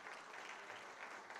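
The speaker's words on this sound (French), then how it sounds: "Vous pouvez en effet l'applaudir bien fort" A conference audience applauds a speaker after a talk on science and technology in politics at Innopolis Expo 2022, a steady wash of clapping that stays fairly faint and even throughout, with no voices over it.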